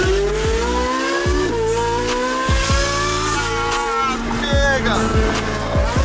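A Ferrari accelerates hard away from a toll booth, its engine climbing loudly through several rapid gear changes, each shift briefly dropping the revs before the next surge, with a short shout from a person inside.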